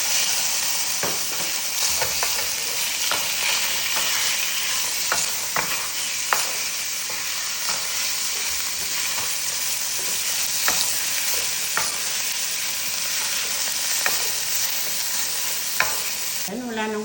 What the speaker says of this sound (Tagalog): nilagyan ko ng konting olive oil at ilagay ko na dito yung chicken